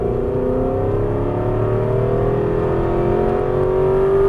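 An Aston Martin V8 Vantage S engine pulls hard on a race track, its pitch climbing steadily in one sustained, loud acceleration with a smooth rising whine over the exhaust note.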